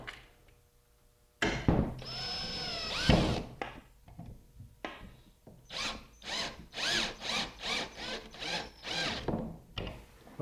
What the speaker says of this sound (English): we'll drive it in with some screws